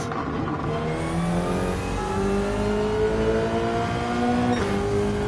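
A Porsche 911 racing in a driving game, its engine revving steadily upward through the gears in a sustained, loud whine with a brief shift dip near the end, heard alone.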